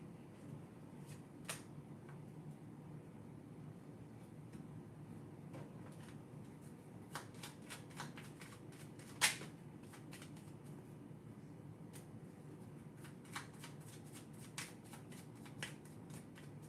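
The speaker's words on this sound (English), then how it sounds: "that was a fast shuffle" A deck of cards is riffled quickly, a series of sharp, crisp flicks and snaps scattered across a quiet room with a low steady hum underneath, the clearest burst near the middle.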